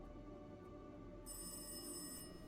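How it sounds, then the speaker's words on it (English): A telephone ringing somewhere in the house as a sound effect, one faint, distant electronic trill that starts partway through over a low quiet hum and then cuts off, with no voices. "You feel like that's the phone downstairs."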